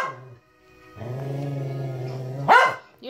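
A household dog gives a low, sustained growl lasting over a second, then breaks into one loud, sharp bark. It is very close, with no talk over it.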